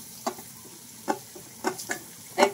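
Onions fried until deep reddish-brown in a pan give off a low, faint sizzle, broken by a few sharp scraping stirs at irregular intervals.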